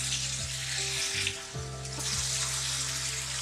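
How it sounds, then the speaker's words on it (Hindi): Beef liver frying in a pan with a little water, turmeric and garlic, giving a steady close sizzle with watery bubbling and a few brief stirring clatters, no voices. "जरा सा मैंने थोड़ा पानी डाला था हल्दी और लहसुन के साथ, ताकि वो अच्छी तरह भुन जाए।"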